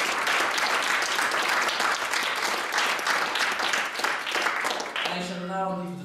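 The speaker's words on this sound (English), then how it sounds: "I would like the House to applaud Supélec for its win" Audience in a debate hall applauds the winning team, a dense, steady wash of many hands clapping that fades near the end as a voice begins speaking.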